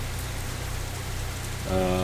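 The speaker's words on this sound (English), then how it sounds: "the rain's coming down a little bit, cooling down a little bit" Steady rain falls outside an open window, a constant even hiss close to the mic, with a low hum beneath and a brief tonal sound at the end.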